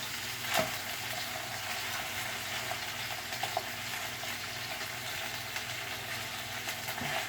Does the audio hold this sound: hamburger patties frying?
yes